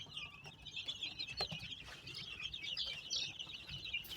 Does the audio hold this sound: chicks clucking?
yes